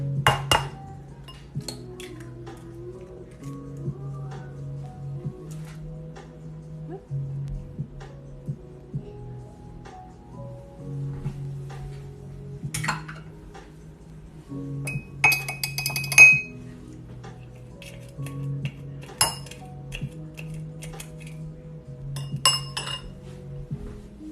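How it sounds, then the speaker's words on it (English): A fork beating an egg in a bowl for a mug cake, quick rhythmic clinking against the bowl, mostly steady taps with occasional louder clinks, quiet and close. "So I'm just putting it in another bowl and just mixing it"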